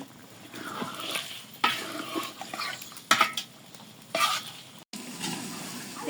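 Meat sizzles and fries in a pan while a spoon stirs and scrapes it, with repeated clanks of metal against the pan over a steady hiss, close and clear, no talking.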